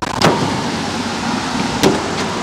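A camper van's back door opening outdoors, with two short mechanical clunks of the latch and hinge about a second and a half apart over steady background noise.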